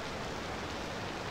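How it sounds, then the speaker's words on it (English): Steady rain in the city-building game Cities Skylines II, an even broadband hiss with no breaks, fairly loud and alone without speech. "Stop raining. I can't hear myself think."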